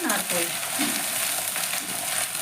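Grated coconut fries in hot oil tempered with spices and bay leaf for a thor recipe, a dense, close crackling sizzle with light stirring scrapes throughout.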